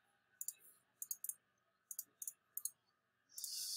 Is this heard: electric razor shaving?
no